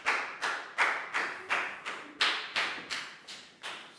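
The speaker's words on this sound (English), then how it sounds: "a big round of applause for Lakau too" Classroom applause for a Year 4 pupil, heard as about eleven sharp, evenly spaced claps or taps in a steady rhythm, fairly close and moderately loud, with no voices.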